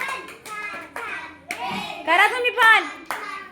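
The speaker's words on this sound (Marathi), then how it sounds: "छोटी छोटी श्रेया आणि पवित्रासाठी एकदा जोरदार टाळ्या वाजवा सगळ्यांनी" Children and adults clap in a classroom for two small girls, in short bursts of hand claps between the speech of a woman and kids.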